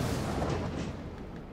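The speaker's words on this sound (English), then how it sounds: "More grenades" Grenade blasts in the Dust 514 shooter video game, a dense rumbling roar of explosions that fills the whole short stretch, loud and continuous without any voices.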